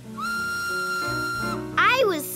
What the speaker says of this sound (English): The steam engine whistled.